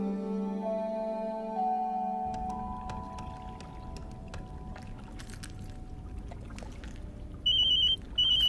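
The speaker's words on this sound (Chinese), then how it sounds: "以后这个电话响是玲玲打" A telephone starts ringing near the end, with short, bright electronic ring bursts repeating after a stretch of quiet tones and background hum.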